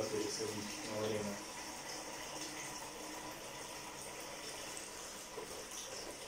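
Water from a home aquarium pours and splashes into a bucket, a steady gushing fill with fairly even loudness throughout and no voices.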